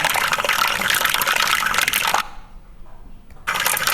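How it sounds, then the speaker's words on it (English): Air bubbles escaping from old melting ice core samples give a dense, steady crackle and fizz, much like Rice Krispies, close and loud, with a short quieter gap near the end before it resumes. "all that crackling you hear, kind of like Rice Krispies, is that ancient air that's essentially being released from this old ice and bubbling out"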